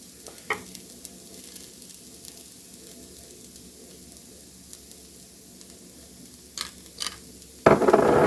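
Jicama home fries sizzle softly in a pan with seasoning, a low steady frying hiss, and a few light stirring scrapes build into a louder crackle at the end.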